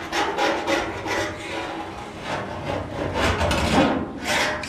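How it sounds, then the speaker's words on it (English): A Snap-on scriber drawn along the frame rail of a 1972 Duster during a floor pan install, giving a steady close scraping rasp with no talk. "So, I'll take this little snap-on tool, just a little scriber type deal"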